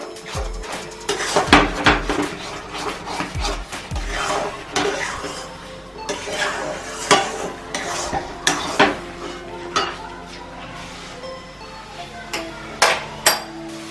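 Bombay duck fish being stirred and fried in a pan, with repeated scraping and clattering utensil strokes against the metal and soft sizzling underneath, close and fairly loud throughout.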